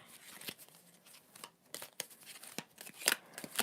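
Soft, irregular papery riffling and flicking of a tarot card deck being shuffled up close, in short bursts with brief pauses.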